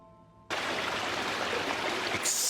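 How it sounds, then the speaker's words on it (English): Loud running water from the horror video game Tormented Souls bursts in suddenly after a quiet stretch, a dense, steady rushing roar that swells slightly louder near the end. "Extremely loud water, good lord."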